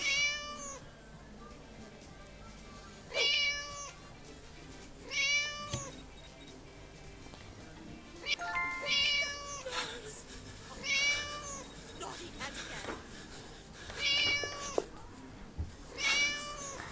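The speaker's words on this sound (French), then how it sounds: "On va libérer ce pauvre petit chat." A cat in the video game Scary Teacher 3D meows repeatedly, about seven plaintive cries spaced a couple of seconds apart, over a quiet background with faint movement.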